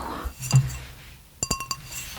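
Glass clinking: a soft tap early on, then a quick run of bright ringing clinks close by, with quiet between.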